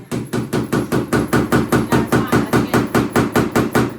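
A hammer taps a hanging hook into the back of a painting's frame, giving a fast, even run of about sixteen sharp, close knocks with no talking.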